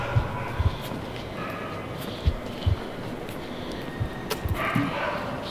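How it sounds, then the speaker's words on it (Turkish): Large dogs bark in a cemetery at night, giving a few short, scattered barks and yips at a moderate distance over a steady low rumble of background noise. "Köpekler çok büyük, kocaman."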